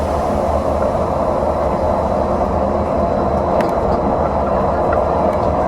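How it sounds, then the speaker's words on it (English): Disneyland monorail train approaching the Tomorrowland station, giving a steady loud rumble and rolling whine that fills the cabin, with faint brief clicks late on. "Please remain seated until the monorail comes to a complete stop."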